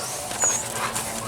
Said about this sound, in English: Obviously there was a puppy got locked in there.